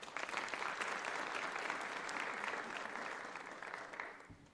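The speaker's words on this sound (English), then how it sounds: "Can we kindly give the IEC one last round of applause, colleagues?" Conference audience at a leadership summit giving a round of applause, a broad steady clatter of many hands, fairly distant and soft, tapering slightly toward the end.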